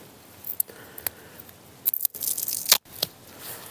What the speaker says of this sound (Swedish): Min sån här tejp som alltid följer med.